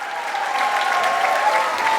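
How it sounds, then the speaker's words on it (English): An audience at a Taekwondo performance cheers and applauds enthusiastically, with dense, steady clapping and crowd noise filling the whole stretch at a loud, even level. "They respond to the performance with an enthusiastic cheer."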